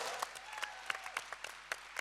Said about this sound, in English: Big round of applause for Zvonko.